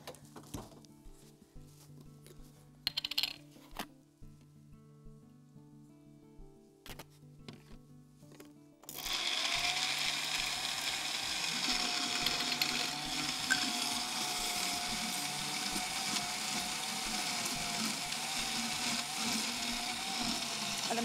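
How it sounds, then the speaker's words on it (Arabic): Quiet clinks and taps give way to a loud, steady blender roar grinding walnuts without pause, a harsh whirring motor filling the rest of the clip. "بنفرم برضو عين الجمل، ها عين الجمل شديد شويه على الخلاط"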